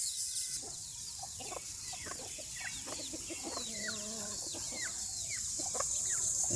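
A hen that hatched duck eggs clucks on a farm, with repeated close soft clucks and chirping from ducklings over a steady background hiss.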